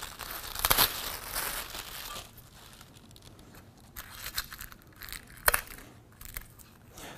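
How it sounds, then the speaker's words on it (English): Crinkling and crushing of soft blue packaging material as a window air conditioner's mounting bracket is unpacked, for a Frigidaire 8,000 BTU unit; close, uneven rustles with a few sharp crackling bursts and quieter fumbling between, no talking. "All right, so we're going to unpack the bracket."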